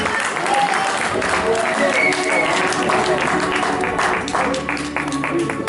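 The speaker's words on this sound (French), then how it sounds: "On l'applaudit bien fort, elle vient me voir sur scène." A theatre audience applauds loudly as a young volunteer named Marie-Lou comes up on stage for a magic act with Chinese rings; steady clapping over about six seconds, with voices and speech mixed in.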